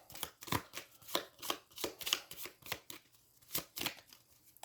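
Cards from the deck-building game Aeons End 2nd Edition being shuffled during solo play, a rapid run of crisp riffling bursts close to the mic with no talking over them.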